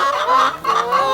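Chickens and roosters near a backyard coop, a couple of close, loud clucks in quick succession with no other sounds.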